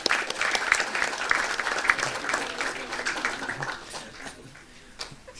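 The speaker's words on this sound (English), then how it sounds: "Another round of applause for Andrea." An education forum audience claps, a lively round of many hands with some individual claps standing out, loud at first and tapering slightly toward the end.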